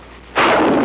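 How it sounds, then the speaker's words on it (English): A bazooka fires in combat: one sudden loud blast that bursts in abruptly and rolls on as a broad, rumbling roar for about half a second. "The bazooka."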